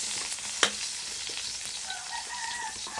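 Sardines frying in a home kitchen pan, a steady broadband sizzle with a sharp clatter near the start and faint rooster crowing in the background.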